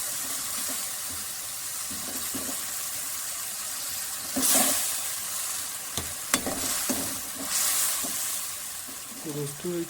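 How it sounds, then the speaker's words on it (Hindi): Tomatoes and spices frying in a pot for aloo matar pulao, a steady loud sizzle with occasional stirring scrapes and a splash of added water. "4 से 5 मिनट तक हम इसको मज़ीद भूनेंगे टमाटर को"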